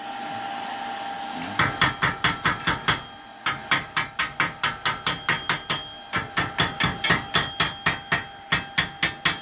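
Sharp, rapid hammer taps chip slag off a MIG weld bead, a steady train of close metallic knocks after a brief scrubbing hiss, with a short pause midway before the chipping resumes.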